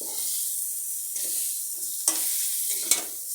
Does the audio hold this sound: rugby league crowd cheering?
no